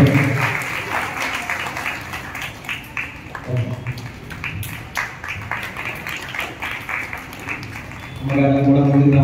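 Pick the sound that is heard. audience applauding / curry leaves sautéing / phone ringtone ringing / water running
audience applauding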